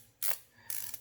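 A ratchet mechanism on an archery bow release clicks tight in two short, close, crisp bursts of rapid clicking, with no other sound around them.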